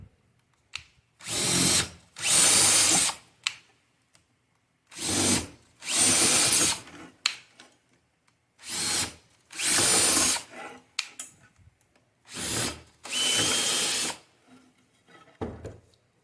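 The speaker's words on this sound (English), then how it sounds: "These need to be drilled out" A power drill bores out holes for screws, whirring in six or so separate bursts of about one to two seconds each, close and fairly loud, with short pauses between them.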